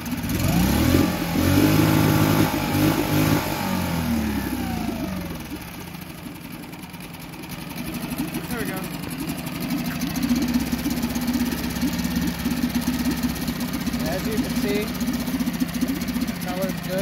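A Honda 5 hp four-stroke outboard motor runs close by, revving up and dropping back with a rising whine, then settling into a steady running drone.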